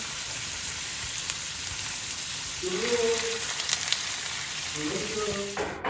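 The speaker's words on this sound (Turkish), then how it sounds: "Böyle nar gibi kızartıyorum." Potatoes sizzle steadily in hot oil, a close, continuous crackling hiss with small bursts of popping, while faint voices murmur briefly in the background.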